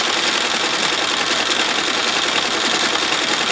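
An embroidery machine stitches onto the bottom pocket of a carry-on suitcase at around 700 RPM, a steady, fast, close mechanical whir and rapid needle clatter running unbroken without speech.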